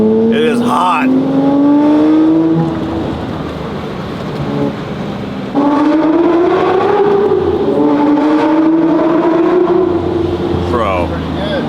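A Lamborghini Murcielago driving through heavy traffic in hot Las Vegas, its engine note climbing in rising whines and easing off, then surging again, loud and close under intermittent voices.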